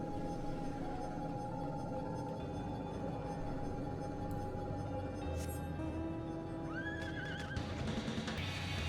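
A horse mount in the game Final Fantasy XIV gives a short neigh late on over layered game music and ambience, with no one talking.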